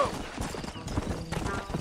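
A horse gallops in the Red Dead Redemption video game, its hooves clip-clopping quickly and steadily at close range beneath a voice and other game sounds.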